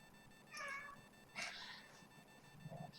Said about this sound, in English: He meows.